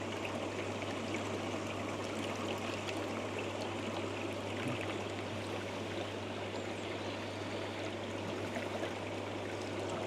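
Water spilling over the weir inside an Evolution Aqua pond filter, a steady rushing and trickling flow heard close up and continuous throughout, with no talking.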